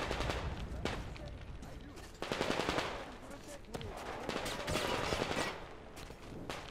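Sustained enemy gunfire in the video game Metro Exodus, dense rattling volleys and single shots layered over one another, moderately distant and continuous throughout.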